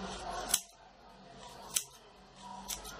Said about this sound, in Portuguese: Eu vou cortar dos dois lados essas pontinhas.